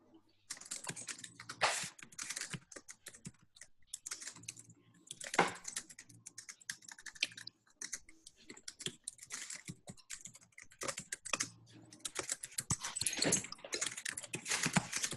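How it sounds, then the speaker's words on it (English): Rapid keyboard typing clatters in bursts with short pauses, close and moderately loud, with no one speaking. "Okay, she's typing it."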